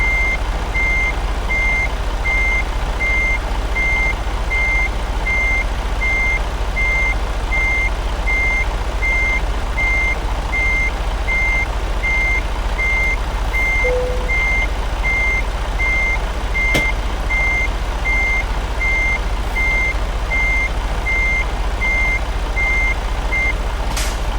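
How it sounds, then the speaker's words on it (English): A truck's reversing beeper, the truck a new Cascadia hauling a hazmat load of anhydrous ammonia, sounds a steady run of evenly spaced, piercing beeps over a constant loud engine idle, with one brief knock partway through. "I got my beeper going."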